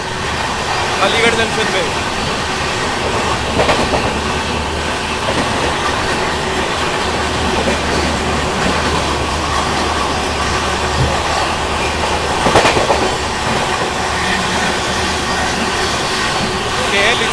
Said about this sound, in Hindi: यहाँ हम ओवरटेक कर रहे हैं लिच्छवी एक्सप्रेस को